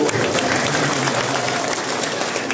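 A gathered audience at a manaqib religious gathering in an Islamic boarding school claps for newly introduced sons-in-law; dense, steady applause fills the whole stretch at an even level, with a faint tonal hum underneath.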